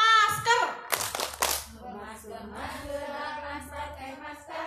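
Hand clapping from a PAUD teachers' training session, warming up for a children's mask-clapping song about COVID-19, with bursts of sharp claps early on, then singing voices and chatter carrying on under a steady beat.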